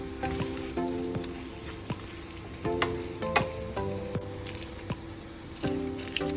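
Beef being stirred with sautéed shrimp paste (bagoong alamang) in a hot pan for binagoongan, a steady close sizzle broken by repeated scraping and squishing strokes of the spoon.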